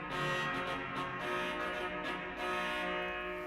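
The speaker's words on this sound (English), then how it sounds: "The Cornet Magna 16-foot sounds like this." A 16-foot Cornet Magna trumpet reed stop on a pipe organ sounds a loud, steady, brassy sustained chord, its buzzing tone unbroken for several seconds with no voices.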